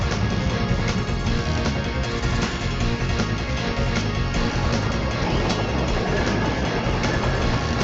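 A train rumbles and clatters steadily throughout, loud and continuous, as part of a played-back story about the engine Diesel chasing it.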